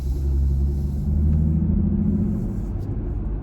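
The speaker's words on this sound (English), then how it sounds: "Do you hear that grumble in the background?" A Jeep Gladiator's engine grumbles steadily while accelerating, a continuous low, throaty rumble heard from inside the vehicle with a faint road hiss above it.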